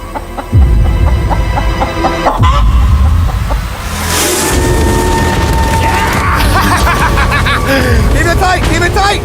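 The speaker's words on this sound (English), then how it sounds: "Oh, this chicken's actually pretty chill." A chicken clucks amid loud outdoor commotion on an island, with people talking and shouting over bumps and rustling handling noises.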